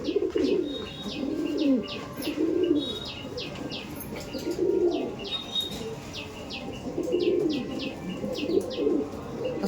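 Kaldom pigeons in a loft coo in repeated low, rolling phrases that swell and fade every couple of seconds, with faint chirps from other birds scattered above.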